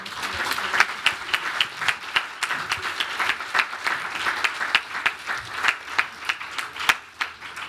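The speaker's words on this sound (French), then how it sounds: "on va les applaudir une dernière fois" Modest audience at an aluminium design competition awards ceremony claps for several seconds, with distinct individual claps standing out from a thin, uneven round of applause that gradually tapers off.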